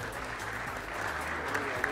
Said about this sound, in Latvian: Aplausiem.